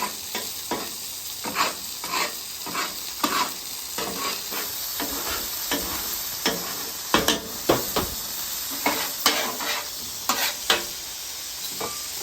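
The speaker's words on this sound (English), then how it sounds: "Now you just want to work all this together until it reduces just like you would a teriyaki sauce." Bacon, onion and whiskey jam sizzling and reducing on a griddle while a spatula stirs and scrapes through it, giving a constant loud frying hiss with rhythmic scraping strokes and no voices.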